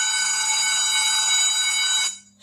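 A phone rings loudly and steadily with a bright, continuous alarm-like tone, set off remotely by a Pebble Frost smartwatch's find-phone feature, then cuts off abruptly near the end.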